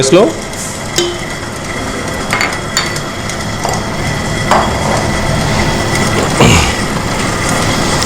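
Electric mixer creaming cake batter as eggs are added, a steady whirring churn with occasional clinks and knocks of the bowl and beaters, fairly loud and close.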